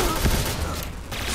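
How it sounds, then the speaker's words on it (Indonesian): Gunfire crackles in a shooting video game, a dense burst of shots and rattling fire filling the moment under a noisy, busy mix. "Bapak-bapak mau tembak-tembakan loh"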